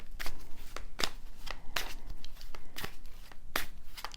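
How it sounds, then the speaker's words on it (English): Tarot cards being shuffled by hand, a run of crisp, close riffling bursts in a loose, uneven rhythm with no talking. "So let's shuffle the cards"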